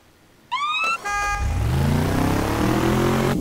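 A 4x4 vehicle in the video game APB Reloaded: a short rising chirp, then a loud, close engine rumble that swells and holds steady without pause.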